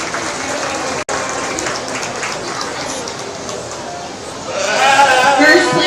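Crowd applause for exhibitors at a county sheep showmanship and market lamb show, a continuous wash of clapping that briefly cuts out and then swells louder toward the end.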